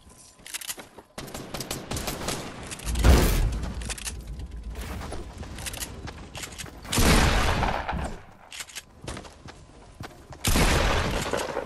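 Video game hunting rifle fire in a firefight: several loud, sharp bursts of shots and impacts at irregular intervals, with quieter stretches in between and no speech.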